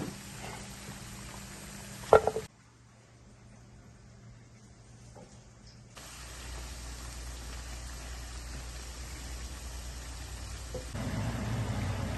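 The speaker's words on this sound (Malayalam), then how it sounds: "തിരിച്ചും മറിച്ചും ഇട്ട് ഇത് ഫ്രൈ ചെയ്ത് എടുത്ത് പൊരിയാൽ മതി" Cauliflower pieces deep-frying in hot oil for Gobi 65, a soft steady sizzle and crackle that drops out briefly, then returns and grows a little fuller toward the end.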